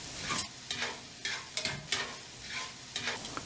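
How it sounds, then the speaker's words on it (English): Sautéed onions get stirred in a hot pan, with a quiet sizzle under repeated scraping, shuffling strokes of a utensil, close by and free of talk. "I'm gonna check on my sauteed onions and give them a stir"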